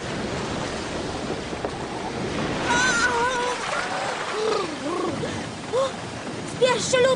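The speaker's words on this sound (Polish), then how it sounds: "Fale są coraz większe!" Big ocean waves crash and roar continuously in a cartoon storm at sea, a loud wash of surf with character voices shouting over it.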